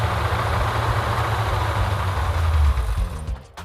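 A 1970 Plymouth Cuda with a 340 V8 idles with lifter noise, a steady low burble that dips and roughens near the end as the engine note changes.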